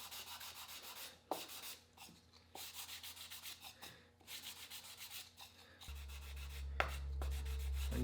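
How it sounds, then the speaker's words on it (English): Soft, rhythmic rasping strokes of sandpaper lightly sanding a turned wooden bowl, repeated in quick passes with brief pauses, close and moderately quiet, with a low hum joining near the end. "Again, just really light sanding."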